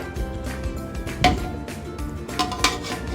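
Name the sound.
stirring biryani in a cooking pot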